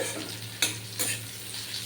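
Tender radish stir-fries in a pan, a soft steady sizzle under a low hum, broken by two sharp scraping stirs and a few lighter clinks, with no talking.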